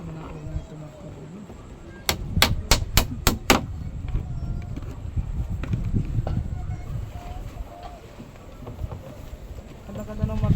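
Quick run of about six sharp hammer strikes on wood while building a nipa hut beside a river, close and loud, set against outdoor background noise with some movement afterward.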